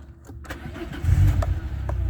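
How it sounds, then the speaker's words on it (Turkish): A Peugeot 306 car engine cranks briefly and catches on the first try, then settles into a close, steady idle as it switches over to LPG, with no talking. "Şu an gaza basmadan e, marş yaptım. Tek marşta aldı."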